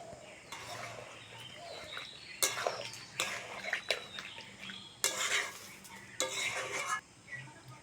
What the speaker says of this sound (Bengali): এইবার অল্প করে জল দিয়ে দেবো।